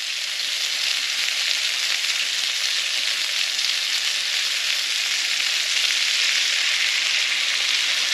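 Steady, loud sizzling of ribeye steak frying in a pan at a streamside hot-tent campsite, a dense broadband hiss running unbroken throughout with no talk.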